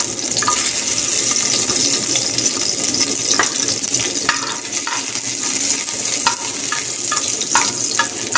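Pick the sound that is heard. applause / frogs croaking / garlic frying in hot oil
garlic frying in hot oil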